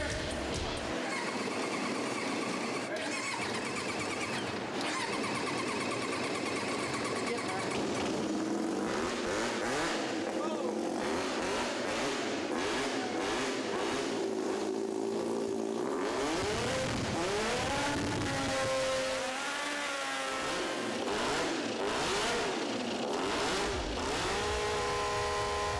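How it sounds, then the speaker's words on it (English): A DeLorean's engine cranks, catches and revs for the first time in a garage, rising and falling in loud surges with rough idle between, while people shout and talk around it. "the engine is ready for its first firing"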